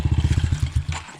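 A motorcycle engine revs hard in second gear during a wheelie, a close, rapid pulsing growl with a throbbing beat that rises briefly, then breaks off within about a second.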